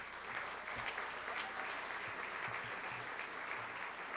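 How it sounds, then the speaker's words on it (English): Audience applause for platinum sponsors at a politics forum luncheon, a steady, fairly distant wash of many hands clapping that holds evenly throughout. "Please give them a round of applause."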